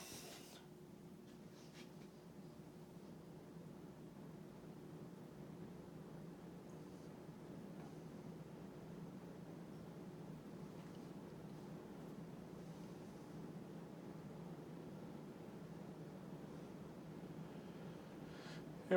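An Emerson Premium 52-inch ceiling fan spins on high speed, giving a steady, soft whooshing hum of moving air that holds even and unchanging throughout.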